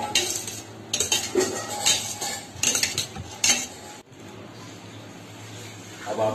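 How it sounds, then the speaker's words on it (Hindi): A spoon mixing chilli powder into bhel in a bowl, heard as close scraping and clinking of metal against the dish in irregular strokes that pause and then resume faintly. "अब इसको हम लोग थोड़ा मिक्स कर लेते हैं।"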